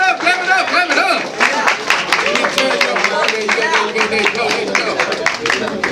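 An audience at a live poetry show claps and cheers for a performer coming to the stage, a dense, loud, continuous wash of applause with crowd voices and whoops mixed throughout.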